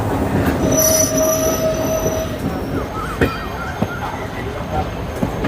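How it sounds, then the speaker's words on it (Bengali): A train on the Kolkata to Tarapith run pulls out of platform 7 at Sealdah station. High metallic wheel squeals ring out over a rumbling roll, with sharp clanks from the wagons. "ট্রেন আমাদের শিয়ালদহ স্টেশনের 7 নম্বর প্ল্যাটফর্ম থেকে তার নির্ধারিত সময় ছেড়ে দিল।"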